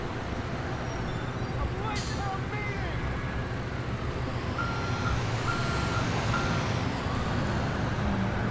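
A tow truck in the video game GTA IV sounds its reversing beeps, a faint repeated pulse under steady traffic and engine noise that fills the whole clip.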